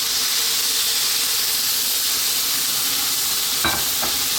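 Frying tomatoes sizzle and steam loudly and steadily after a cup of cold water goes into the hot pan, with a brief scrape of stirring near the end.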